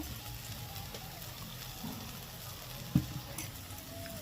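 Poppy seed paste masala frying in a pan for egg posto, a steady low sizzle with faint bubbling and one brief utensil knock, no talk.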